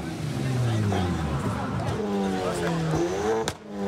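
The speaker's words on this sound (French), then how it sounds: "1 millier de personnes assistent à un rassemblement de voitures trafiquées" Modified cars at a night car meet in a parking lot with about a thousand spectators, engines revving and droning up and down close by under a steady babble of crowd voices.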